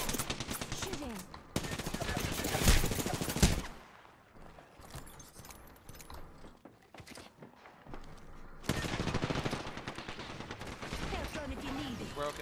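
Rapid automatic gunfire in the battle royale game Apex Legends rattles in loud, dense bursts, falls to quieter scattered shots in the middle, then erupts again into sustained firing.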